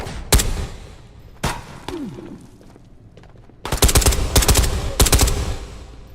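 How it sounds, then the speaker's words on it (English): Gunfire in the VR shooter Ghosts of Tabor, during a solo PvE raid. A few sharp separate shots come first, then two dense bursts of rapid automatic fire, loud and close, with no talking. "Who the fuck is shooting at me?"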